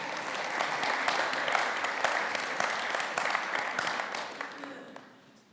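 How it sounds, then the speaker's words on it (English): A church congregation claps in a steady, dense round of applause that fills the room for several seconds before tapering off at the end. "Let's give Dennis a round of applause."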